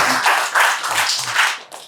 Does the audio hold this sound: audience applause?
yes